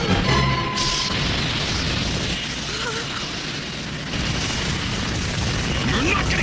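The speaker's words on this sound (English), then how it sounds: "The Minerva's preparing to fire its positron cannon." The Minerva's Tannhäuser positron cannon fires in Mobile Suit Gundam SEED Destiny, a loud, sustained anime explosion: a broad roaring blast that rumbles on for several seconds at steady strength.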